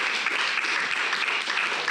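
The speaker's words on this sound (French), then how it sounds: "on peut les applaudir très fort." A roundtable audience claps loudly and continuously, the dense applause holding at an even level throughout with no voices on top.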